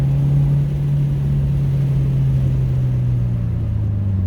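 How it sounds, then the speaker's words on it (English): A 2022 Subaru WRX engine rumbles steadily while accelerating, a deep low hum that drops slightly in pitch, heard up close from inside the car. "It's got a nice little rumble."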